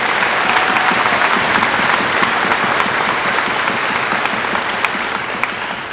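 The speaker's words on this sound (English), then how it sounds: "give another round of applause for all of our Citizen Excellence Award winners" A large audience at a Missouri Boys State closing ceremony gives a loud, sustained round of applause for Citizen Excellence Award winners, dense clapping that holds steady and tapers slightly toward the end.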